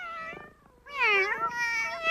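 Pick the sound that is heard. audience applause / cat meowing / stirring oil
cat meowing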